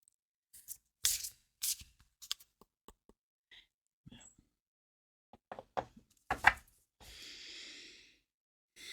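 Playing cards are shuffled up close in a quiet room: scattered sharp flicks and slaps, then a longer soft riffle near the end, with short silences between.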